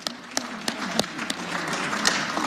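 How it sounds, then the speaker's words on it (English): A city council meeting audience claps briefly, scattered individual claps that gather into a light, uneven patter for a couple of seconds. "Just wave our hands and clap our hands for that."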